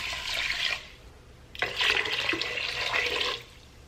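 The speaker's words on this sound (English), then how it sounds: "Going to do 2 cups of brown rice, 4 cups of water," Tap water runs into a pot in two steady pours for cooking brown rice in an Instant Pot, with a short pause between them, close and fairly loud with no talking.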